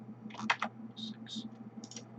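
Keys clicking on a computer keyboard in short irregular bursts, close and fairly quiet, over a steady low hum.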